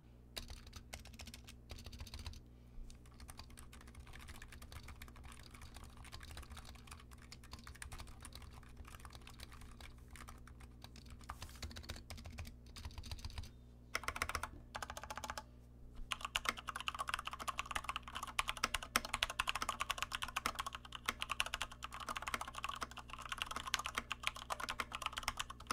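Mechanical keyboards typing steadily, a Razer Huntsman Mini with linear red switches and a Corsair K65 Mini with Cherry MX Speed switches, dense rapid keystrokes over a low hum, growing louder and busier in the second half.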